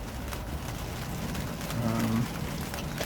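Rain falls outdoors over a garden on a late-September day, a steady close hiss that holds throughout, with a brief faint tonal sound partway through.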